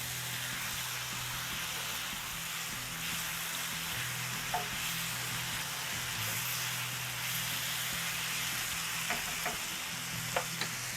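Food fries in hot oil over high heat for an iftar dish, a loud, continuous sizzle with crackling and a few sharp pops, close by and with no talking.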